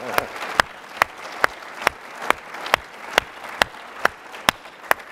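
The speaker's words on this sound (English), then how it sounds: "How about a round of applause for Israel's Mossad?" A conference audience applauds Israel's Mossad with a steady wash of clapping, punctuated by loud, regular sharp claps close by roughly twice a second.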